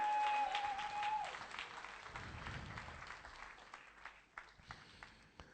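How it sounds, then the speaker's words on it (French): A church congregation applauds during a sermon, a broad wash of clapping that fades over a few seconds as a sustained tone ends, with scattered voices and claps trailing off. "Applaudis-moi un peu le Seigneur."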